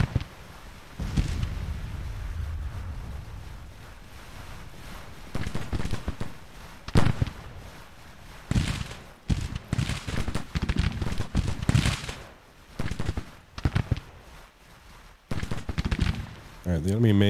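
Civil War troops trade volleys in the strategy game Grand Tactician, with irregular bursts of musket fire cracking near and far, some shots overlapping in rolling clusters, while someone speaks over parts of it.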